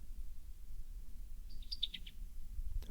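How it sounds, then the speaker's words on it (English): A small bird sings from a nearby tree limb outdoors, giving a short burst of high, bright chirps midway through over a low, steady outdoor rumble. "Bird singing to me."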